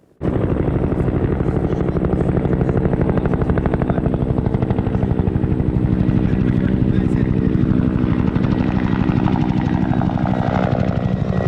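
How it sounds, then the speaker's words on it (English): A Bell UH-1 Huey helicopter passes overhead at an airport air fair, its loud, rapid rotor thump beating steadily and close throughout, swelling slightly as it goes by. "we got one more flyover from the Huey"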